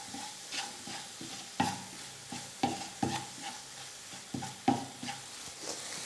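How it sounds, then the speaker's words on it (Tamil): Rice masala with garam masala is sautéed in a pan over medium flame, a soft steady sizzle punctuated by regular scraping stirs of a spoon against the pan, close and fairly quiet, no voices. "இப்போ இது எல்லாத்தையும் சேர்த்துட்டு ஒரு 2 நிமிஷம் நம்ம வதக்கிக்கலாம்"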